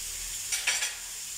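Liver and sausage sizzle in a pan, a soft steady hiss with a few brief bursts of stirring or spattering near the middle, close and fairly quiet.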